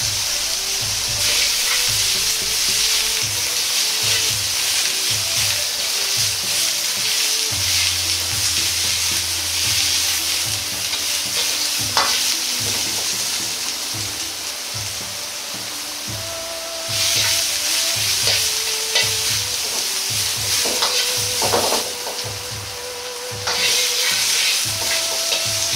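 Bamboo shoots stir-fry in a pan over high heat while the pan stays still, giving a loud, continuous sizzle with small stirring scrapes throughout and no talking.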